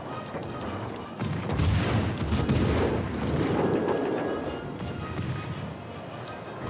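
An enemy destroyer blows up in World of Warships: Legends, with a heavy booming blast and rumbling artillery swelling midway and then fading, under an ongoing game soundscape.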